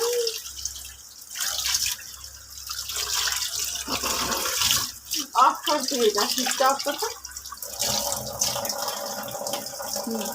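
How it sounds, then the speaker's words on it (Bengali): Fish fat being rinsed under running water in a home kitchen, with a steady watery splash and drip that comes and goes, and someone talking over it. "এগুলো হলো মাছের তেল দেখো ধুচ্ছি"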